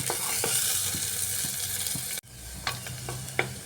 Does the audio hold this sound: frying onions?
yes